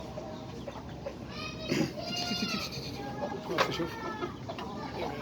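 Chickens cluck and squawk at close range in short bursts, with a voice briefly speaking in Arabic among them.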